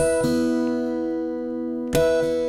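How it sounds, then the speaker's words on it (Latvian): Guitar played in a percussive fingerstyle, the middle finger sliding over the first and second strings: ringing harmonic notes sustain, then a sharp percussive hit sets the strings ringing again, close and clear with no voice. "tad es viegli ar vidējo pirkstu uzvalku, tad novalku pa 1. un 2. stīgu, šādi"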